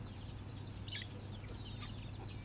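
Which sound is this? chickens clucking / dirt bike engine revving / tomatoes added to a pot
chickens clucking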